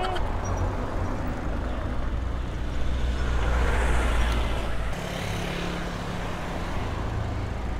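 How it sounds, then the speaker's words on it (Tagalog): Heavy road traffic in Imus, Cavite streams past a cyclist, a continuous broadband roar of cars and larger vehicles that swells mid-clip and then settles. "Daming kotse."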